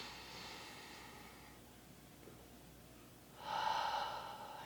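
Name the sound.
deep breath in during a breathing exercise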